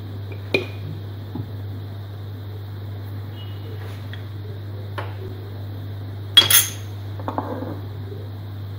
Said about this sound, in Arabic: وغادي نضيف زيت الزيتون 3 ملاعق كبيره